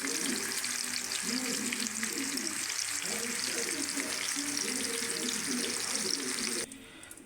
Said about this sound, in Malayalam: നമ്മൾ മന്തിക്കുള്ള ചിക്കൻ മസാല പുരട്ടിയത് വെച്ച് നമ്മൾ വറക്കുകയാണ്.